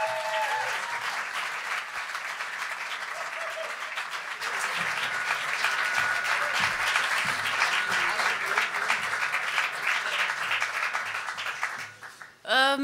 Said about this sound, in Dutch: Uw applaus voor Saskia de Koster.